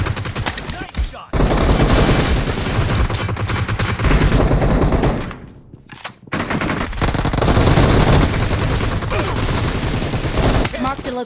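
Dense automatic gunfire from the mobile game BGMI rattles in loud, sustained bursts with a couple of brief pauses, close and harsh throughout.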